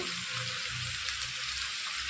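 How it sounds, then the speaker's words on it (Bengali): Potatoes frying in a pan for a Bengali bottle gourd and prawn dish give off a steady, close hiss of sizzling oil with no pauses. "আলুটা দেখো ভালো করে ভাজা ভাজা হয়ে গেছে"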